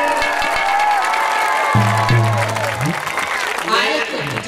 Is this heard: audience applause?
yes